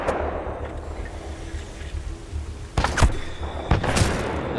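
Gunfire in the video game Titanfall 2: after a rumbling ambient stretch, a few sharp, loud blasts crack out, one near the three-second mark and another shortly after, standing out clearly above the background.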